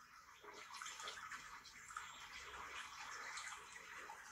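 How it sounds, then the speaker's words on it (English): Gentle water from a mountain lake, a faint continuous lapping and trickling like shallow water being splashed, steady and low in level with no voices. "It sounds like someone playing in shallower water. It's mountain lake sounds."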